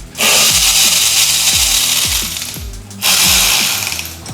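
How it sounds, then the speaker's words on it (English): A ratchet clicks rapidly in loud repeated bursts while loosening the fuel tank bolts on a Triumph Daytona 660 motorcycle, with a brief pause midway before another run of clicking. "we have to loosen all of those up before we can get under the tank"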